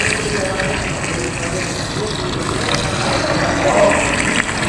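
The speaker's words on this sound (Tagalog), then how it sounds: "Dagdagan natin ang tubig." Water pours and gushes into a large cooking pot of pansit bato cooking in a kawa, a continuous splashing rush that runs steadily throughout.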